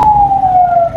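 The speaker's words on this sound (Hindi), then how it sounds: "पीछे एम्बुलेंस है, रास्ता देना है" Ambulance siren wailing loud and close behind a moving motorbike on a rainy road, a steady sliding tone that drops slightly in pitch over one second.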